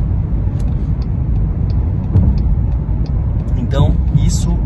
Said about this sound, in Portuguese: Passou o carro de polícia ali, né?